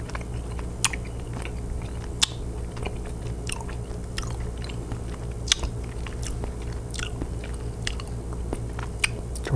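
Chocolate-covered Swedish candy is bitten and chewed close to the mic, with repeated crisp crunches and soft squishy chewing over a steady low background hum.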